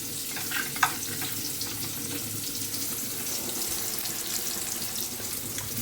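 Potatoes and onions fry together in a pan with a continuous, even hiss of sizzling oil, plus one brief sharp tap near the start. No one speaks.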